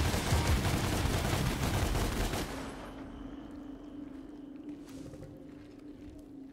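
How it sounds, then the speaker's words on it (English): Rapid gunfire from the DmC Devil May Cry video game, a dense loud burst of shots for a little over two seconds that cuts off, leaving a low steady game hum. "I shoot the enemy off screen"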